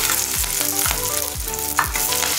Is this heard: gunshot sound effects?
no